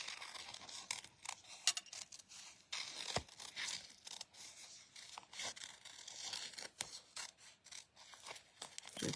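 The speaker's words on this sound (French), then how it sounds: "Donc, je vais me découper des nuages." Scissors cut paper clouds for a handmade card, with repeated close snips and crinkly paper rustle in an uneven rhythm, continuing steadily with no talk.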